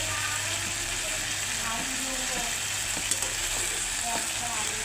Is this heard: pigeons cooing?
no